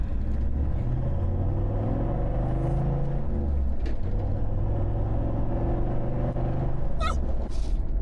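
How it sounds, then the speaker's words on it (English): A car engine idles steadily with a low, continuous rumble, heard close and alone during a road trip through New South Wales, with a couple of faint higher whines near the end. "Just gotta listen to the car quickly, guys."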